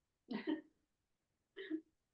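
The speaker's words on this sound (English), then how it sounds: "Excuse me while I blow my nose." Two short, breathy bursts a moment apart, someone blowing their nose into a tissue from allergies, close and fairly quiet.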